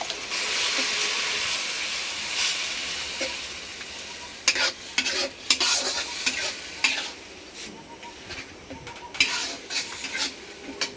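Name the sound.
stir-frying spice paste with chili, coriander and cumin powder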